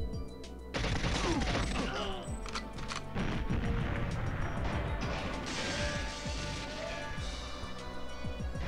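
Explosions and crashing gunfire from the video game GoldenEye 007, with a grenade blast among dense, loud bursts of impacts and shots running throughout.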